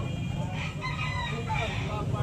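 A stag rooster crows at a busy cockfighting-bird sale, its call blending into loud background chatter and crowd noise rather than standing out alone.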